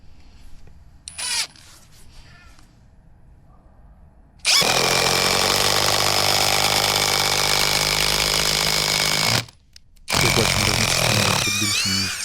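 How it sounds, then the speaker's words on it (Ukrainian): Cordless impact drivers, a Makita DTD173 and a Dnipro-M DTD-201BC, driving a screw: two long, loud, steady rattling hammering bursts of about five seconds and one and a half seconds, preceded by faint handling clicks. "цьому тесті я просто хочу засікти час, за який обидва інструменти закручують даний гвинт"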